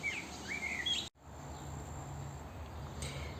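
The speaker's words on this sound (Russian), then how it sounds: "Как у меня хорошо птички поют" Birds singing outdoors as a few clear chirping phrases sound faint against a steady insect-like hum, followed by a brief dropout and then a continuous quiet background with a small chirp later on.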